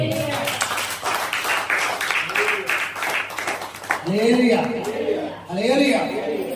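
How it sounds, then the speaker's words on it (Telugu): A church congregation claps, bursts of applause starting in the first seconds and continuing in a dense patter while a preacher speaks over it and laughter and chatter mix in. "గట్టిగా చప్పట్లు."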